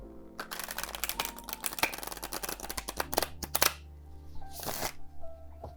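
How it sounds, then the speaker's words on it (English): A brand new, stiff Light Seer's Tarot deck being shuffled: a quick run of crisp riffling card flicks, then a few separate bursts of bridging and snapping cards, close and fairly quiet. "shuffle this one so you can see what a brand new deck of this thickness and size is like"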